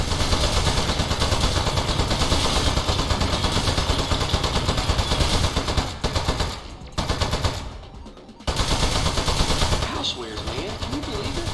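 Sustained loud machine-gun fire in the video game Aperture Desk Job, a dense rapid stream of shots that briefly thins and drops out before resuming, with a voice speaking over it.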